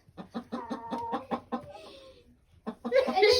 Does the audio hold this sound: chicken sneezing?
yes